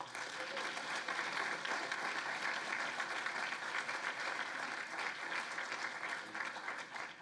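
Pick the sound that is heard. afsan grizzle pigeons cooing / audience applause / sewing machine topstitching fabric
audience applause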